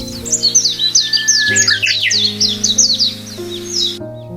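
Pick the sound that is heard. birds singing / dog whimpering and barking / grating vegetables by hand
birds singing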